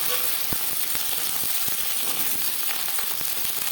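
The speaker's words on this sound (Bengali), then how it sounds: "15-20 সেকেন্ড ভেজে নেওয়ার পর দিয়ে দেবো টুকরো করে কেটে রাখা কুমড়ো আর পুঁইশাকের" Pumpkin pieces and Malabar spinach stalks frying in refined oil, a steady close sizzle with scattered sharp pops and crackles throughout.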